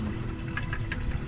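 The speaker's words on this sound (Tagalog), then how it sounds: "Lagyan ko ng tubig." Water runs steadily into a container at a home stove while cooking karne norte, a continuous close splashing pour with a few brighter gurgles, no voices.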